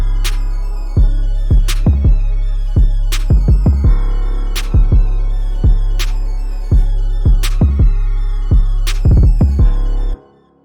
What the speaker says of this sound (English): Now with the clap, that sounds like this with the melody as well.